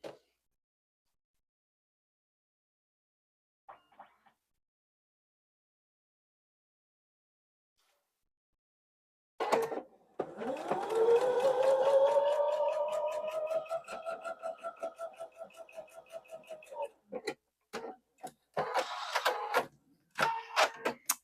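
Sewing machine stitching quilt pieces together, starting after a long quiet stretch and running in a steady close whir, then breaking into shorter stop-start bursts.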